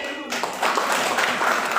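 An audience at a school funding briefing claps for madrasah heads. Dense applause swells in after a brief pause and carries on with voices mixed in.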